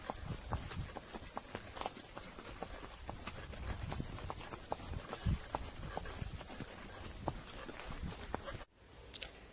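Steady clip-clop of horse hooves walking on a hard surface in the mountains, close by and continuous, with faint outdoor background noise and a sudden drop near the end.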